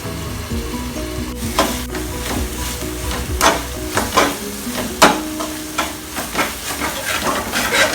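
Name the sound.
stirring frying onion and tomato in pan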